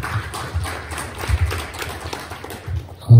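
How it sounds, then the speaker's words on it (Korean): Symposium audience applauding to welcome a speaker at an infectious disease research event, a dense, continuous patter of many hands across the hall, with a louder thump near the end. "큰 박수로 맞아주시면 좋겠습니다"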